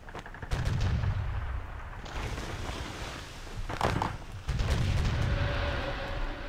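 Ship cannons fire in Sid Meier's Pirates!, with heavy booming blasts rolling into long rumbling echoes over a wash of sea ambience, loud and close.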